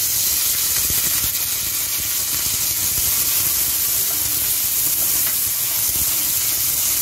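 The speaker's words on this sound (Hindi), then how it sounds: "मीडियम फ्लेम पर हमें भूनते हुए प्याज को सॉफ्ट करना है।" Chopped onions with cumin and green chilies fry in oil over a medium flame, giving a loud, continuous, close sizzle and hiss with occasional stirring scrapes.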